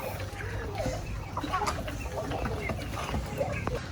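Chickens at a poultry farm cluck on and off close by, scattered among steady background noise while people talk over them.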